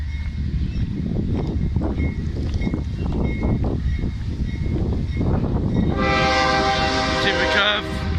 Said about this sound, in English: So we got a CSX train coming